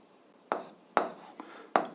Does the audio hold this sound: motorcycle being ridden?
no